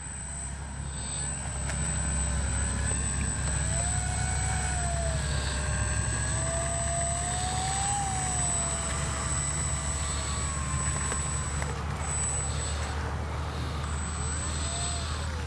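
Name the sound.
RC X-Fly Spitfire warbird model plane taking off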